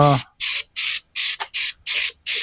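Brake cleaner sprayed onto a rusty truck frame in six or seven short, loud hissing bursts with brief gaps between them, right up close, after a brief voice at the start.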